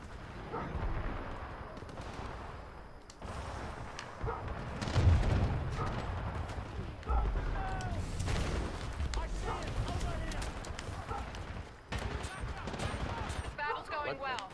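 Gunfire in Titanfall 2 crackles in quick bursts and scattered shots amid booming impacts, close and punchy, while a player talks over the fighting.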